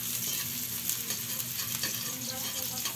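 Ginger, onion and garlic sauté in a pan, a continuous close crackling sizzle with soft stirring scrapes running under it, fairly quiet and even.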